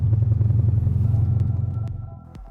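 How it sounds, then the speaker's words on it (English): A car engine fitted with an Akrapovic exhaust, a six-cylinder American-engineered build, gives a loud, steady low rumble close by, holding for about two seconds before easing off slightly. "delivers a very nice sound thanks to the Akrapovic exhaust"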